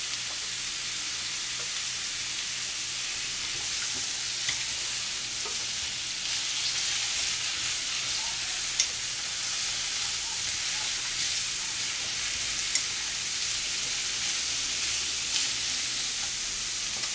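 Sesame oil sizzles steadily as food is stir-fried in a pan for Korean fish cake soup and seasoned radish, a dense, continuous frying hiss with occasional light clicks of stirring, close and alone with no talking.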